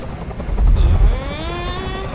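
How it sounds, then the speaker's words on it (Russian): A helicopter in the video game Detroit: Become Human gives a loud, low rotor thump that swells, then fades into a droning hum with a rising whine, heard nearby. "Как же меня бесит этот звук! Прикажи им, чтобы вертолет убрался!"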